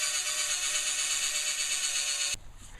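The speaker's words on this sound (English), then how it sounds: "I'm going to drill a pilot hole right here" A power drill bores a pilot hole in a clamped workshop project, giving a steady high-pitched motor whine for about two seconds before it stops abruptly.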